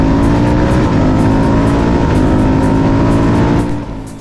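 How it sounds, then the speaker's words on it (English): A pro-tuned, lower-geared Ducati Diavel 1260 S with a race exhaust accelerates hard. Its loud, steady engine roar climbs in pitch and then eases off near the end. "the twist of the throttle on this pro-tuned, lower-geared, race exhaust Ducati Diavel"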